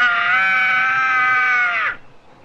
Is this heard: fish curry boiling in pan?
no